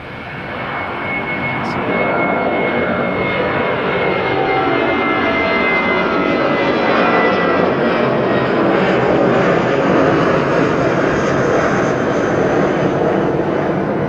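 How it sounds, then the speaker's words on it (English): An incoming airliner on approach from the Gold Coast, recorded from a plane-spotting vantage at the airport, roars loud and continuous, its engine drone building over the first seconds and holding steady and close to the end. "NZ 278 coming in from the Gold Coast shortly, so we'll just concentrate on Stolzy on his"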